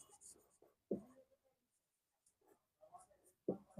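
Hand writing of a grammar example, likely pen or chalk strokes, heard as a few short scratchy bursts separated by pauses, fairly quiet and alone without talk.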